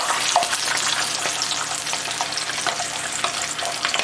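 Blended onion paste with curry leaves sautéing in a pan, a steady bright sizzle and crackle with faint stirring scrapes throughout.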